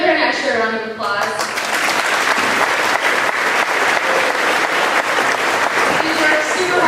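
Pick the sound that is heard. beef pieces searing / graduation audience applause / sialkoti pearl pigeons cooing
graduation audience applause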